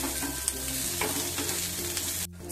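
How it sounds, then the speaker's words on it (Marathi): Onion sautéing in a little oil in a pan for katachi amti, a steady close sizzle with occasional scrapes of a spoon stirring, no talking. "आता कांदा परतण्यासाठी थोडंसं तेल टाकून घेऊया. छान गुलाबी कलर वरती आपल्याला परतवून घ्यायचंय."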